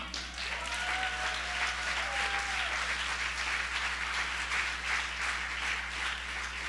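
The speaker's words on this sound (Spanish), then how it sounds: "Dele un aplauso a Cristo." A congregation at a Sunday church service breaks into sustained applause, a thick, even wash of many clapping hands over a low steady hum, with a faint tonal sound early on.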